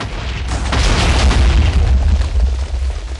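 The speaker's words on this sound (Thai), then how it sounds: "จะเริ่มการระเบิดเลยไหมครับ" A big explosion blows apart a Minecraft SkyBlock island, a deep sustained rumbling boom that rolls on loudly for several seconds with no talking.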